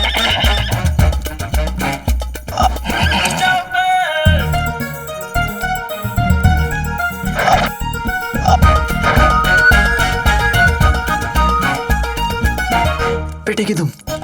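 A horse whinnies against a dense, loud musical score in a Hindi Aladdin fantasy episode, the neigh rising briefly amid the busy music rather than standing alone.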